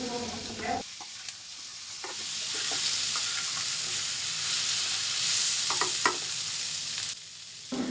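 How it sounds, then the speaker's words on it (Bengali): Potatoes frying in oil with panch phoron, garlic and onion, a loud steady close sizzle that swells as they are stirred, with occasional utensil scrapes and clinks, no talking. "আমি যেভাবে আলুটাকে ভেজে নিচ্ছি"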